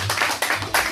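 Short burst of clapping from a church congregation at a Sunday service, loud and close with uneven surges over under a second.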